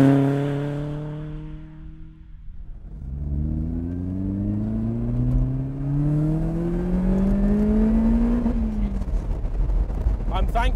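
Supercharged Lotus Elise engine on the move, revs falling away on a lift-off, then climbing through a long pull with a rising whine, close and loud, ending in a sharp crackle as the throttle shuts.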